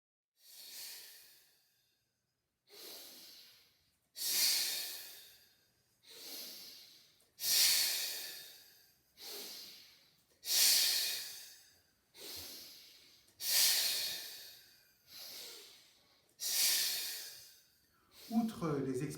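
Repeated sharp nasal exhalations in a breathing exercise, about a dozen airy bursts each lasting roughly a second with short silent gaps, steady and fairly close, with no talking over them.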